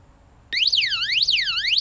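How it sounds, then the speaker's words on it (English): SOS siren from an emergency radio light switches on abruptly after a brief quiet, a loud electronic tone sweeping up and down in repeated wailing cycles. "That's the SOS alarm."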